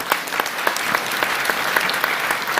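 An audience at an evening gathering applauds immigration officials: dense, steady clapping from a large crowd, held at an even level for a couple of seconds.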